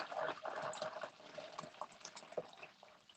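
Boiling-hot water poured from a kettle into a pot of chicken for soup, a steady faint splashing and gurgling stream that tapers off over about three seconds; no one talks.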